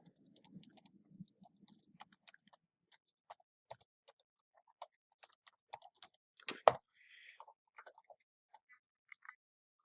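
Typing a command into a console on a computer keyboard: quiet, scattered keystrokes close by, with a brief louder clatter of keys partway through.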